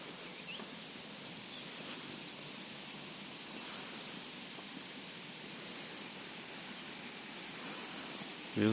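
Huai Mae Khamin waterfall in Srinagarind Dam National Park, Thailand, is heard as a steady, even rush of falling water, far off and moderately faint, unbroken throughout with a brief bump at the very end.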